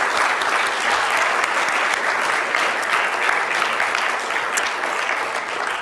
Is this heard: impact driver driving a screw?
no